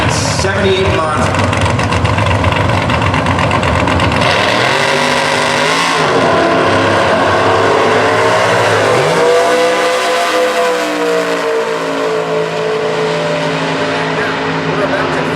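A 1978 Monza drag race car at a Super Gas drag strip, heard as a loud engine roar with rising and falling revs as it runs down the track, with a commentator talking over it.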